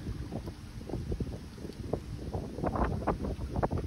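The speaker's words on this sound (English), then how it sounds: "just slowly pouring my tea mixture into this pail so it'll sift out all the dirt" Compost tea, a liquid mixture carrying dirt, is poured slowly through a sieve into a pail, giving a low, continuous sloshing and trickling close to the microphone.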